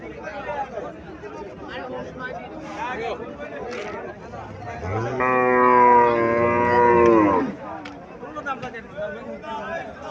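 A native desi cow at a cattle fair lets out one long, loud moo lasting a couple of seconds, rising above a steady background of crowd chatter and people talking nearby.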